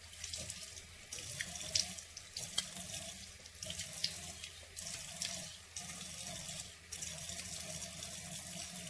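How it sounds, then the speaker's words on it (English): A sink tap runs steadily with warm water while someone washes their face, splashing in bursts as hands dip under the stream, close and fairly quiet. "So wash your face with warm water."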